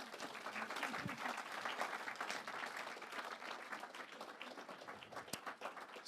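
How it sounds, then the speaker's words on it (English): Audience applause at a UK business panel event on biodiversity, a continuous, fairly distant wash of many hands clapping that holds steady for several seconds. "please give a round of applause to Kathryn"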